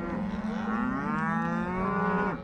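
A cow from a cattle herd on a Montana ranch gives one long, loud, close moo that rises and falls over a couple of seconds, alone without talk.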